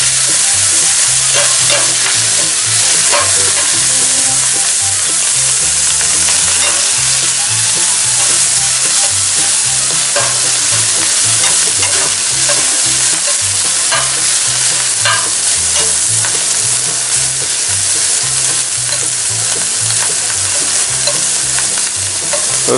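Wild shrimp sizzle loudly in a hot pan for tacos, a dense continuous frying hiss broken by scraping and clattering as they are stirred and flipped.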